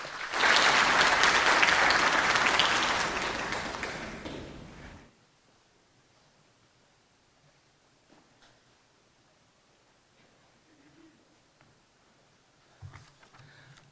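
An audience at a fair housing summit claps loudly for a keynote speaker coming up. The applause is dense and sustained for about five seconds, then stops abruptly, leaving near silence with a few faint shuffles and bumps.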